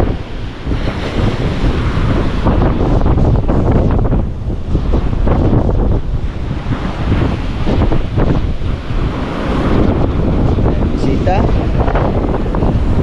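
Heavy ocean waves from a typhoon crash and surge under strong wind buffeting the microphone, a constant roaring wash, with a voice speaking briefly.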